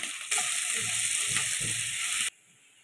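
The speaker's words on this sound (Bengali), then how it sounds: "কুচনো পেঁয়াজ তেলের মধ্যে দিয়ে দিলাম।" Chopped onion dropped into hot oil tempered with white cumin, giving a loud, steady sizzle that starts abruptly, holds for about two seconds, then cuts off to a quieter background.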